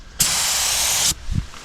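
A paint spray gun laying down blue metallic Rustoleum on a camper van frame, one loud sustained hiss of about a second that cuts off sharply, followed by a faint low thump.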